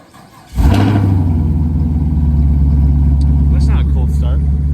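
An engine catches after a few cranks in the snow and settles into a loud, steady rumbling idle up close, with a brief rev at the moment it fires and faint voices over the running motor.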